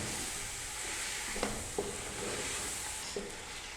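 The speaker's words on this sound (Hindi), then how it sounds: "टमाटर को हमने चिकन के साथ मिक्स कर लिया है और भून रहे हैं।" Tomatoes and chicken are stirred and fried together in a pan, giving a steady sizzle broken by a few clicks from a spoon against the pan. Nobody speaks.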